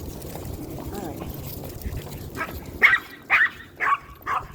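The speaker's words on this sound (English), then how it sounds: "Another doggy across the street there." A dog across the street barks in a few short, distinct bursts toward the end, fairly close and moderately loud, with a person talking quietly nearby.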